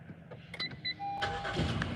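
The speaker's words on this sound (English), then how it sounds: "I turned on my car because it's getting hot out here" A car engine starts on a hot morning, a short crank and catch followed by a settling idle, fairly faint, with a few light clicks around it and no talking.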